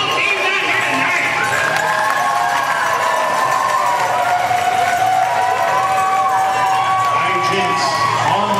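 Crowd roaring and cheering for both teams at a Classic City vs Dub City roller derby bout, a steady dense wash of voices and shouts holding loud for the whole stretch.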